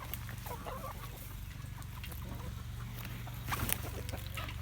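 Chickens cluck and murmur in an outdoor coop, a Welsummer among the flock and another bird near the water, their soft calls steady against a low hum, with a brief louder burst near the end.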